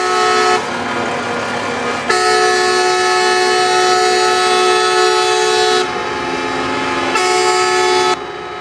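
Protesting trucks arriving at Praça Mauá in Brazil blare their horns in long, loud, sustained blasts that overlap and shift in pitch, with a few brief gaps between them.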